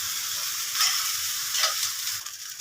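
Fried rice crackles and sizzles loudly in a hot pan, with a continuous frying hiss broken by a couple of brief scraping stirs, close and alone without talk.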